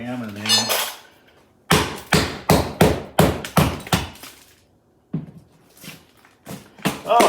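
Sharp hammer blows while fitting electrical cut-in boxes for switches and a sconce into a wall, a run of about eight loud, close strikes in quick succession, then a pause and a few more hits, with brief talk at the start.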